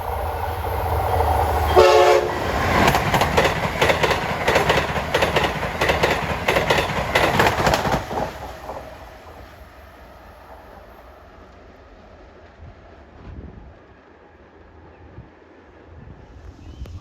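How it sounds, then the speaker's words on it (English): Amtrak Acela train 2155, running from Boston to Washington, approaches on the rails with a brief horn blast and a loud rumbling clatter. The sound then drops away to a quieter distant rumble. "Approaching at 1:14 is Amtrak 2155, Acela from Boston to Washington."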